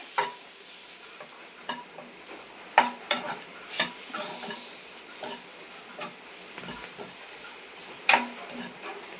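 Ground coriander and turmeric powders stirred and dry-roasted in a pan for a fish curry, giving a soft continuous sizzle with scattered scraping taps of the spoon, close and quiet, with no voices.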